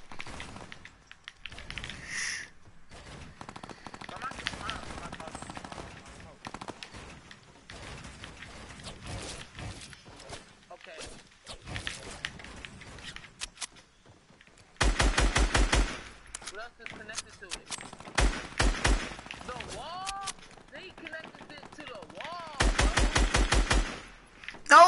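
Bursts of machine gun fire in a video game, rapid rattling volleys breaking out between stretches of quieter action, loudest near the middle and end, with people talking over the gameplay.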